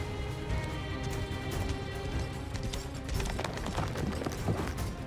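Horses in the Pony Express era galloping hard across open ground, a continuous rumble of hoofbeats with scattered sharper clops, steady and fairly full without any voices.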